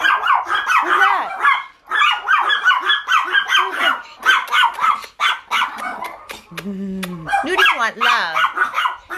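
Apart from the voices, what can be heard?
dog barking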